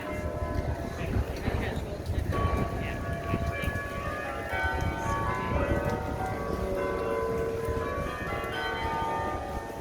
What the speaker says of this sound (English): I love the bells.